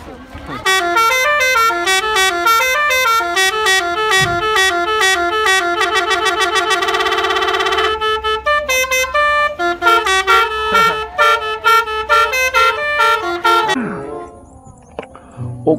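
A New Santika bus horn plays a rapid, melodic sequence of loud musical honks for several seconds, then stops, with faint talk nearby.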